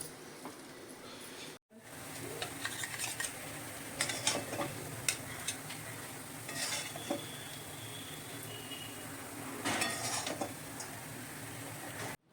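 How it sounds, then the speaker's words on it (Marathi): Spring onion bhaji scraped out of a pan onto a plate with a spoon, quiet clinks and scrapes in scattered bursts over faint background noise. "भाजी आपण प्लेटमध्ये काढून घेऊया"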